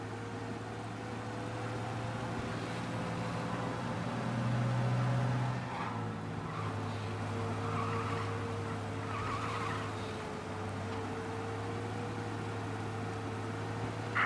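A video game car engine hums steadily at speed in Mafia while escaping police, with brief tire squeals, a continuous driving drone with no talking.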